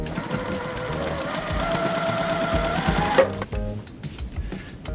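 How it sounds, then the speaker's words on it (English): A sewing machine runs steadily, stitching quilt triangles together, its rapid mechanical whir close and continuous for about three seconds before stopping, followed by softer handling clicks and thumps. "And now we're going to just sew these together."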